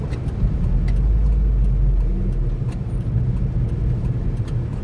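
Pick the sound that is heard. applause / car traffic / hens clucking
car traffic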